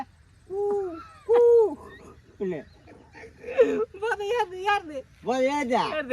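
A person imitates a cuckoo's call in a Tamil comedy scene, giving a few short hooting cries that alternate with speech and laughter from another voice nearby.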